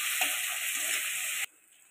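Chopped tomatoes sizzling in hot oil over browned onions with a little salt, a steady loud frying hiss with faint stirring that cuts off abruptly near the end.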